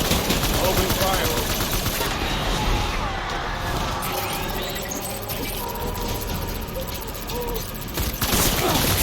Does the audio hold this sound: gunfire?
yes